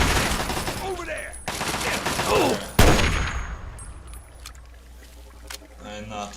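Two loud, sharp sniper rifle shots ring out in the Fallout 3 video game, each followed by a fading tail, over a busy game soundscape with a voice in the background.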